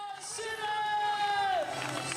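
Crowd noise along the course of the Challenge Roth triathlon, a steady broad roar of cheering and whooping spectators, fairly close and continuous, with voices mixed through it.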